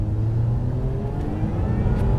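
Inside a Lotus Emira V6, the engine drones steadily through a gear change, a loud, continuous low rumble with a slight dip and pickup and no talking.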